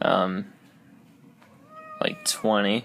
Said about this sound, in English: that was my cat, if you heard that meowing